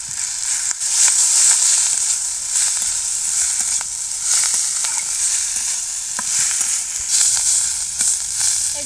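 Moringa drumstick pieces fry in a pan of oil with turmeric, giving a steady, dense sizzle that runs throughout with small stirring clicks and scrapes, fairly loud and close, with no voices.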